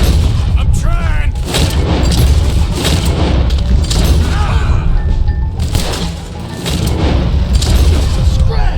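Rapid gunfire and booming shots from a Red Dead Redemption 2 shootout, loud and dense throughout, with shouting voices mixed in over the din.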